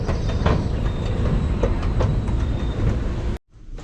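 Busy Paris train station interior with trains, a steady loud rumble of rail traffic and station bustle filling the space, ending in a sudden cut to near silence.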